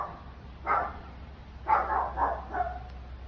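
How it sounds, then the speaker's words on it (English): A neighbour's dog barks several times at a distance, muffled short yaps in two clusters with a steady low hum underneath. "Sorry, the neighbor's dog."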